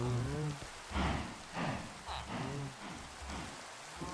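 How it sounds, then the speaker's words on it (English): Rain falls steadily in the Minecraft video game, a soft hiss under a faint melodic game soundtrack and scattered tones. "Of course it's raining. It is Minecraft,"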